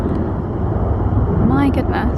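Loud, steady roar of low-flying small military propeller planes passing overhead, with a person exclaiming over the noise.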